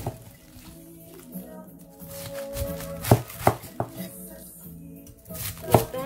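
Knife chopping fresh cabbage on a board for a vegetable soup, irregular clusters of crisp cuts and thumps up close, with a voice talking in between.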